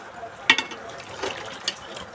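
Water poured into a pot of potato and mutton curry, a couple of brief splashing pours close by, fairly soft.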